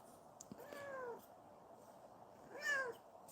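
A cat meows twice, a drawn-out call followed after a pause by a louder second one, in an otherwise quiet room.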